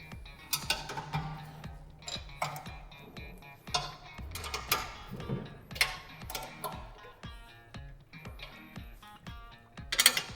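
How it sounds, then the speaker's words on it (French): Ratcheting removal of the four 19 mm bolts holding the gearbox housing on a DELEKS LYNX shredder, a steady run of close, quick metallic ratchet clicks with occasional louder clanks. "Il est aussi facile d'enlever les 4 boulons qui maintiennent le boîtier de transmission au broyeur"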